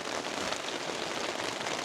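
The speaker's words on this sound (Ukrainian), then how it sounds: "Та це капець, який дощ пішов просто." Heavy rain pours down outdoors during a carp fishing trip, a loud, steady, dense hiss of drops with no pauses and no voices.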